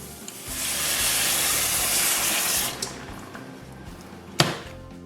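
Beef broth poured into a hot pan of cooking onions sprinkled with cornstarch: a loud, steady rushing hiss of liquid and steam for a few seconds, then it fades to a softer simmer, ending with a single sharp clank.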